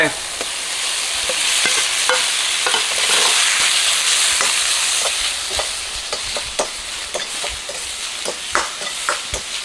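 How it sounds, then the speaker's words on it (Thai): Beef being stir-fried with chili and garlic in a hot pan, a loud dense hiss of frying that holds steady, then gives way to repeated scraping and clicking strokes of a spatula. "ผัดให้พริกกระเทียมของเราเนี่ยหอมนะครับ เสร็จแล้วก็จะใส่เนื้อลงไป"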